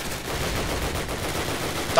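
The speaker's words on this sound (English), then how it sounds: "that freaking machine gun!" Sustained machine gun fire in a Call of Duty: United Offensive team deathmatch, a dense continuous rattle of rapid shots under muffled game noise with no pause for two seconds.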